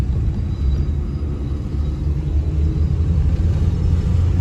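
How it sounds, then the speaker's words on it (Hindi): A 2010 Toyota Yaris with an ABS communication fault being driven, heard as a steady low road and engine rumble from inside the cabin, continuous and fairly loud with no talking. "गाड़ी इस टाइम मैं ड्राइव कर रहा हूँ"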